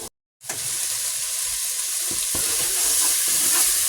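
Food browning in a pan gives a loud, steady sizzle after a brief silent gap at the start, with scattered scraping and stirring taps near the end.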